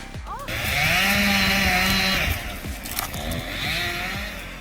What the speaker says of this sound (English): Ladder shaking, chainsaw roaring,